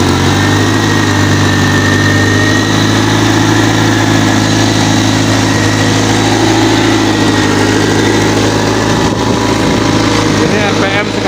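A car engine held at about 2000 RPM during a charging system load test, a steady idling drone with a low hum throughout while someone talks over it.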